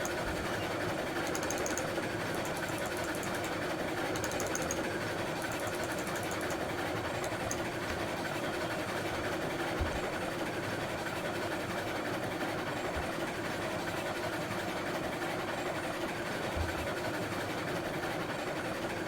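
A steam locomotive in RailRoads Online climbs a grade in a winter setting with the regulator opened further, giving a steady, continuous mechanical chuffing and rumble that stays at an even level throughout.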